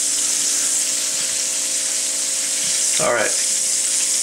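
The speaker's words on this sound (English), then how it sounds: "I just got a couple of small potatoes in here frying." Small potatoes seasoned with salt and pepper fry in a pan, giving a steady close hiss of sizzling throughout, with a brief stir or clatter near the end and a short spoken word.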